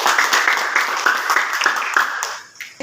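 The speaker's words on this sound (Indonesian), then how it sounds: "tepuk tangan buat Niki" Classroom of students clapping for a classmate during an Islamic religious education lesson, a brisk burst of many hands that fades out near the end.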